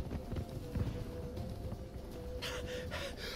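Roach, the horse in The Witcher 3: Blood and Wine, gallops with steady hoof clops under game sounds, a brighter rush of rhythmic beats coming near the end.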